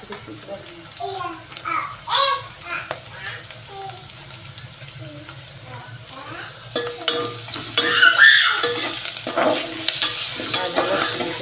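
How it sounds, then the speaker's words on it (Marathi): Ginger garlic paste frying and being stirred in a pan next to curry leaves, a steady sizzle with scraping strokes, getting louder and busier toward the end, with a voice and other voices talking over it. "आता आम्ही आले लसणाची पेस्ट घालणार आहे"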